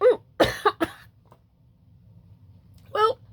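Someone coughs after swallowing a cough drop, giving a few sharp, close hacking coughs in quick succession, a quiet pause, then one more cough.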